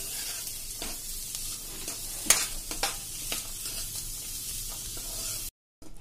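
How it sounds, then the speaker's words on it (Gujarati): Vegetables for rava upma sauté in oil over low gas, a soft continuous sizzle with occasional stirring scrapes and a couple of sharper clicks, fairly quiet and close, ending in a brief silence. "આને હવે આપણે સરસ એકદમ સ્લો ગેસ ઉપર થોડા સાંતળી લેશું"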